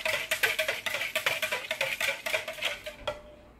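A spoon stirs baker's yeast into lukewarm water in a bowl, giving a quick run of rhythmic clinks and swishes up close, then stopping abruptly near the end.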